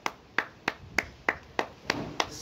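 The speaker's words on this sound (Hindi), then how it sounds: "अरे कैमरामैन तुम चुपचाप ताली बजाओ" Eight sharp hand claps in a slow, even rhythm, close and crisp with short gaps of quiet between them, no voices.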